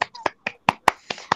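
A few separate, sharp, close claps in an uneven rhythm, about eight in total, from a small group of children clapping at a school.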